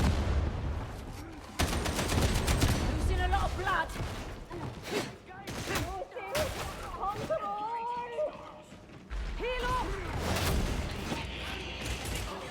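Bursts of gunfire and grenade blasts from the game Darktide, loud rapid volleys and booms in clusters, mixed with mechanical clatter and voices talking over the action.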